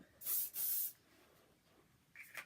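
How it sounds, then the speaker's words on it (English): Two quick bursts of mousse hair spray hissing close by, back to back, followed by quiet and a faint rustle. "I'm going to spray it just to get an idea of the scent."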